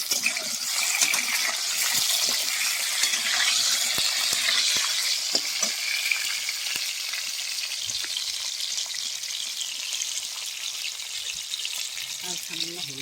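Pointed gourd (potol) frying and being stirred in a pan with a little salt, a steady bright sizzle running throughout with occasional scrapes, close and continuous, no talking.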